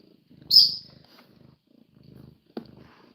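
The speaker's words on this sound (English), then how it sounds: "Oh, you purring?" House cat purring softly up close in a quiet room, short low rumbling bursts separated by pauses, with a brief high squeak and a sharp click between them.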